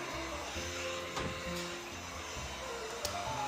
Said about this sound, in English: we're going to put our heat gun all the way on high